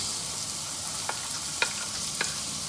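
Sofrito and a vegetable mix sizzle steadily in hot olive oil for a sausage ragu, a continuous frying hiss broken by a few short stirring scrapes near the pan, with no talking.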